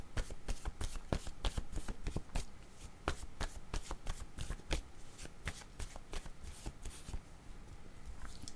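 A tarot deck being shuffled by hand for a card reading, producing a close, rapid run of crisp riffling and flicking card snaps that continues steadily throughout.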